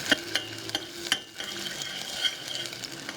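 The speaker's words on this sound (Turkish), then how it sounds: "Önce salçamızı karıştıralım" A spoon stirs tomato paste into melted butter in a pan, scraping and tapping in quick irregular strokes over a faint sizzle, close and fairly quiet.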